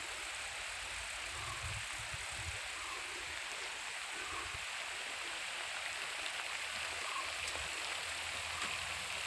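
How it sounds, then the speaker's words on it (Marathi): A sprinkler watering areca nut palms in an orchard hisses in a steady, even spray, with water pattering continuously on leaves and ground throughout, no voices present. "इथे स्प्रिंकलरने सुपारीला पाणी देणं चालू आहे"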